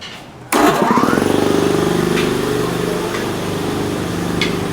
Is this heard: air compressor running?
yes